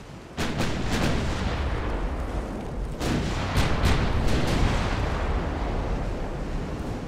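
Naval gun salvos boom out in the Ultimate Admiral: Dreadnoughts warship battle, with a sharp volley near the start and another cluster around the three-second mark, each followed by rolling low rumble.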